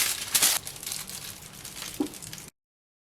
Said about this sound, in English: So the aluminum foil should be slightly longer in diameter than the cake pan, and you just want to fold it to a sling.